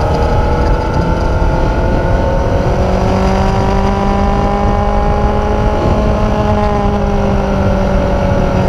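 A 2006-2015 Yamaha FZ1 motorcycle riding through town, engine droning steadily and loudly up close with gently rising and falling pitch as it cruises through the gears.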